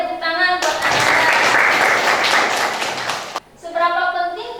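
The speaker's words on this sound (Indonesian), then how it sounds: "Oke, tepuk tangan buat Anda." A classroom of students clapping for a classmate in a physics lesson, a dense burst of applause lasting about three seconds, with a teacher's voice speaking before and after.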